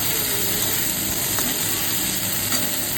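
Fish fries in a pan with onion and green chilli, giving a steady, close, loud sizzle with a few faint clinks of stirring and no talking.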